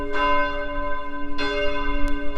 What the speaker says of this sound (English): the bell is ringing in his honor, the memory